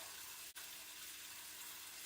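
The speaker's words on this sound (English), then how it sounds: "So what I'm going to do now is just get some cold water in the bowl." A kitchen tap runs cold water into a bowl, a steady close hiss of flowing water that barely changes, with a momentary dip early on.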